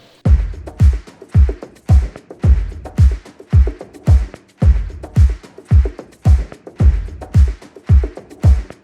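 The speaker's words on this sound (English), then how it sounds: "there's an interesting mix of claps and bongos and all sorts of instruments in there" Layered percussion samples of claps and bongos roll out a busy, driving groove of tight, punchy hits with bright clap snaps and hand-drum tones, played loud and close with no voices.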